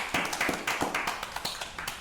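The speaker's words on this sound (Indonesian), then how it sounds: "Tepuk tangan terus ya dari tadi ya." A few people clap at a podcast recording, a short sequence of distinct, fairly regular claps close to the microphone in a quiet room.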